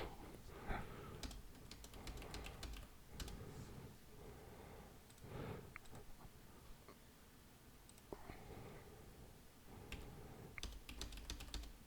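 Someone types on a computer keyboard in quiet, close clicks and short bursts, with a few brief pauses between keystrokes.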